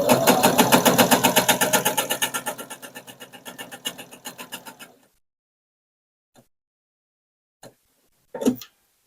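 A domestic sewing machine with a walking foot quilting through fabric layers, a fast loud rhythmic stitching chatter for about five seconds, then stopping, followed by a few faint isolated clicks and a short handling rustle.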